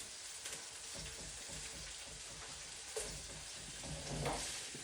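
Bacon frying in a wok, a continuous soft crackle and spit of hot fat, close up but fairly quiet, with a few louder pops and a brief clatter.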